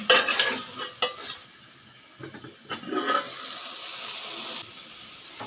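Spices with Kashmiri red chilli powder being sautéed in a pan: close sizzling and scraping stirs in irregular bursts, with quieter frying between strokes and no voices.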